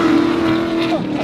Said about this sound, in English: So yeah, first time drifting, first drift event